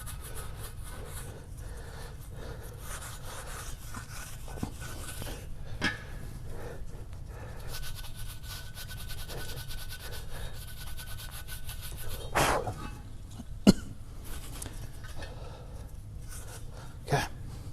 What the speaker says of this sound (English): There's a little bit of rust on there. Just gonna clean that up with a pad of some kind.